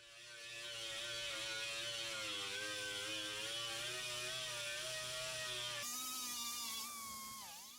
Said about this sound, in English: I got my grinder and a Scotch-Brite 3M wheel, and I'm basically just going all along the edge